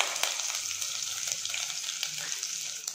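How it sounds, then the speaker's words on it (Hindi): Garlic cloves fry in hot oil with a continuous, bright sizzle and scattered small crackles, steady and close throughout with no talking. "तो ऑयल जैसे ही गर्म होगा हम सबसे पहले लहसुन की कलियां इसमें डालेंगे फ्राई होने के लिए।"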